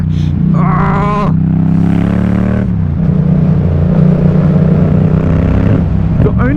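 A 2017 Yamaha MT-07 motorcycle fitted with a full Scorpion exhaust revs loudly and close by. The engine climbs, drops and rises again in a steady throaty roar, and a voice speaks briefly over it.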